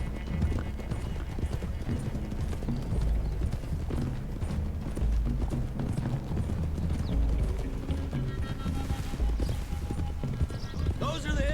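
Several horses gallop across open country in Red Dead Redemption 2, a dense, continuous thunder of hoofbeats with occasional snorts and whinnies, under spoken dialogue from riders.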